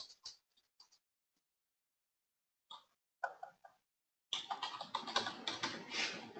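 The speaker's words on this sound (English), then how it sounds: "I'm going to type their page in." Fingers type a Facebook page name on a computer keyboard, giving a few scattered clicks with a long pause, then a dense, quick run of close keystrokes.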